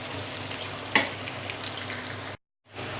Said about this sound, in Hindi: अच्छे से फ्राई कर लेंगे इसे